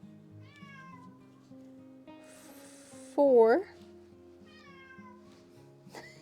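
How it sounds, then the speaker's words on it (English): A domestic cat lets out one loud, close meow, with a quieter mew here and there around it, while a person talks softly in the background. "It's my cat."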